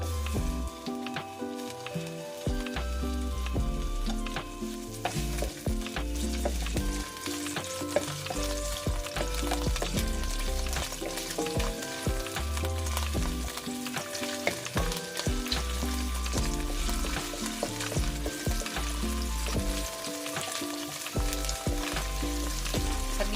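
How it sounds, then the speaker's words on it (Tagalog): Chopped onion sizzling and frying in hot olive oil in a pan, a loud, steady crackle running throughout with occasional stirring, no talking. "Tapos ilagay ko na yung aking onion."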